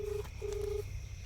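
Two electronic telephone keypad dialing tones beep in quick succession, one short and one longer, over a quiet background hum.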